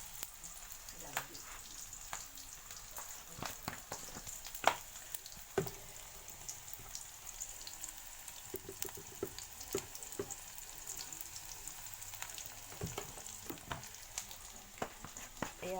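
Onions frying in a pan, a continuous soft sizzle with frequent crackles and pops scattered throughout, near and fairly quiet, with no talking.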